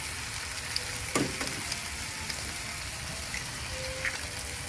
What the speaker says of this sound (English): you will add your eggs one by one